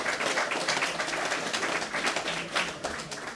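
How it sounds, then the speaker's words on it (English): Audience applause after a reading at the Lennox Robinson Fest 2014, sustained steady clapping from a crowd heard at a moderate distance throughout. "A big round of applause for Liam McCarthy."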